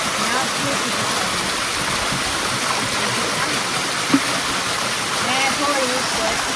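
Water rushes steadily at Devil's Waterfalls, a constant loud roar filling the whole clip from close by, with a faint voice murmuring underneath.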